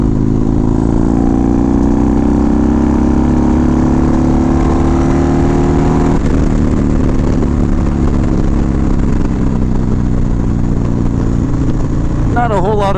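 Indian motorcycle with a 116 engine pulling hard, its loud throbbing drone rising steadily in pitch as it accelerates on an open road, with wind noise and a rider talking over it.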